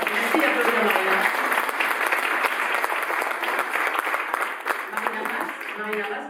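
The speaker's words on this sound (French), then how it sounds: "merci d'applaudir Marina" An audience applauds at a prize-giving ceremony in honour of a foundation's director, with steady, dense clapping that holds for the whole stretch and dips only slightly near the end.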